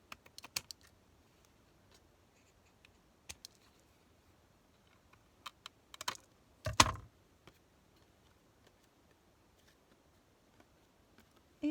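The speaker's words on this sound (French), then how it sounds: "Hop, je vais couper ce qui dépasse." Scissors snip away the excess material on a handmade Christmas tag, with sparse quiet clicks and taps and a brief louder cutting burst near the middle, set against near silence.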